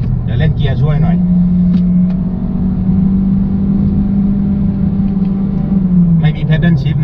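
A Mazda CX-30 2.0S descends a mountain road with manual gear selection for engine braking. The engine hum climbs to a sustained higher drone, then drops back. Someone speaks over it at the start and end.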